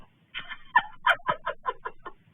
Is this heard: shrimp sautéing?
no